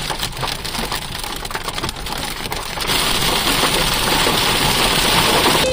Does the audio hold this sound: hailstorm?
yes